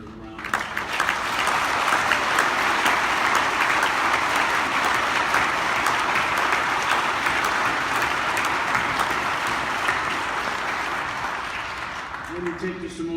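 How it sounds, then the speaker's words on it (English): A large crowd at the 2018 memorial dedication for the 6888th Central Postal Battalion breaks into sustained, dense applause for the honored women, holding steady for about twelve seconds before tapering off. "Please join me in giving all these wonderful ladies another round of applause."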